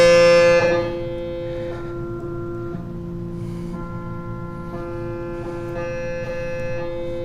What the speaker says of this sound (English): And these are all piano sounds